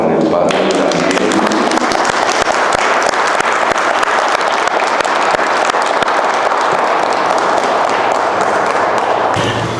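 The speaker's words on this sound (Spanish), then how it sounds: "Les pido un aplauso para el Padre Daniel." Sustained, loud applause from an audience welcoming an invited priest speaker, dense clapping filling the full stretch and ending abruptly.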